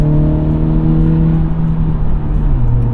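Manual Acura Integra with about 200 horsepower, its engine rising in a steady, close rev just after a downshift while under way.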